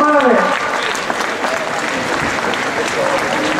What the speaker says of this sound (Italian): Un applauso non fa male!